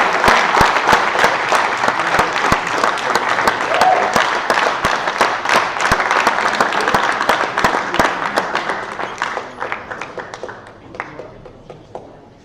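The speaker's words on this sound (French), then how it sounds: "Et puis on peut s'applaudir." High school students at a computer science half-day event applaud themselves, a lively spread of many hands clapping with sharp individual claps standing out, steady for several seconds before thinning and tapering off to quiet.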